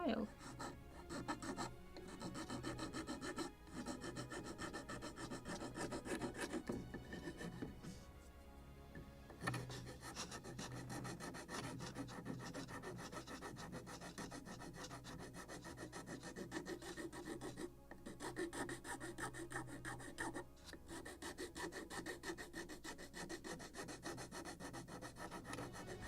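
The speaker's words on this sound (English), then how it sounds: "And now I need to clean this burnt edge, which is the most tricky on this plank. Maybe with file." A file rasps along the burnt edge of a wooden plank for a model ship, repeated back-and-forth strokes, close but quiet, with a brief pause and faint speech at moments.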